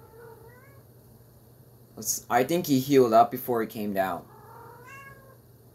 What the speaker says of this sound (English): Sorry, you guys. That's my cat,